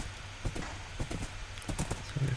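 Horse hooves clip-clop in a multiplayer video game as a mount is brought to a stop at base camp, a run of fairly close, rhythmic hoof taps over a steady background hum, with no talking.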